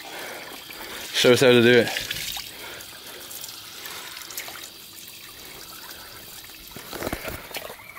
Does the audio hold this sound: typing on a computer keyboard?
no